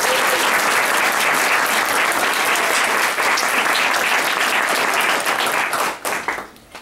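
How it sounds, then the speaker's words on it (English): Sustained, dense applause from an audience at a literary reading honoring contest winners, steady and full for several seconds before tapering off near the end. "let's give a big round of applause for Star"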